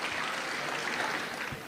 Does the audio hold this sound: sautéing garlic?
no